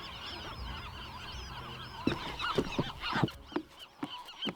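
Seabirds on Anacapa Island call in a busy colony, a chorus of squawks and honks in the background with several louder, sharper cries close by toward the end.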